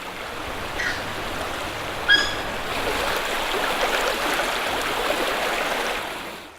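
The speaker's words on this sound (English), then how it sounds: "This Cibolo Creek up here is so sweet and gentle and such a mellow little creek." Cibolo Creek flows gently past cypress trees with their knees sticking up from the water, a steady soft wash of running water that holds throughout, and a couple of faint bird chirps come early on.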